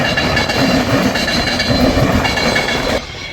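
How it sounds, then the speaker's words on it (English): An Avanti West Coast train bound for London Euston passing through Ardwick station: a loud, close, continuous rumble and rattle of wheels with clickety-clack beats, easing slightly toward the end. "We have an Avanti West Coast to London Euston."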